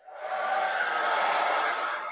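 A hair dryer switched on, on a low setting, to dry the auger of a substrate mixer: a steady, close airy whoosh that starts abruptly and holds evenly throughout, with no talking.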